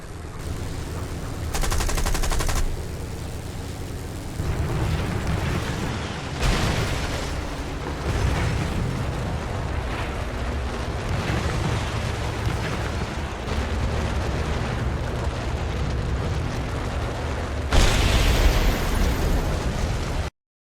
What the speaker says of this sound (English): I asked him to shoot me down for demonstration purposes